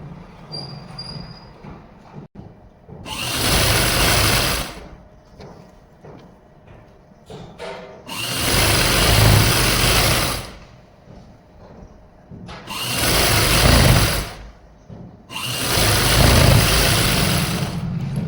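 Sewing machine stitching the side seams of Afghani trousers in four loud sustained runs of whirring motor, each several seconds long and separated by brief pauses with faint handling sounds.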